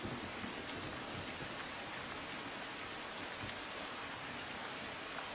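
Rain falls steadily and evenly in Gujarat, a dense continuous hiss of drops on surfaces with no voices.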